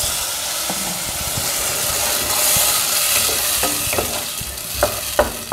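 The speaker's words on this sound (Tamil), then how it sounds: "நம்ம அரைச்சி வச்சுருக்கோம் இல்லையா தக்காளி, அதை ஊற்றிக்கலாம்." Ground tomato pours into hot oil with popped mustard seeds for a bittergourd sambar, raising a steady, loud sizzle and hiss. A few spoon taps and stirring clinks come near the end.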